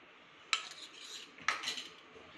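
A spoon adding sugar and Boost powder to a bowl gives two sharp metallic clinks about a second apart, each trailing into a short scrape, close and clear with nothing else around.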